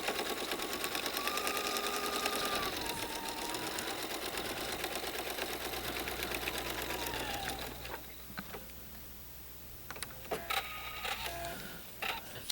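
Sewing machine stitching a quilt block, a continuous close mechanical whir for several seconds that then drops away, followed by a few faint clicks and handling noises.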